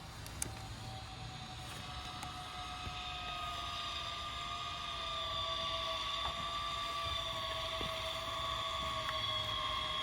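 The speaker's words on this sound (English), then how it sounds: "Go to engage the rollers onto the tyres. So as you might see, these are mechanically being driven on now." Powertouch single auto caravan motor mover, rollers mechanically driven onto the tyres, a steady electric motor whine with a sustained high tone that holds and builds slightly over a low hum, close and continuous.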